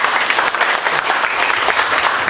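An audience at a community education event claps steadily in dense, sustained applause, loud and close, with no voices over it.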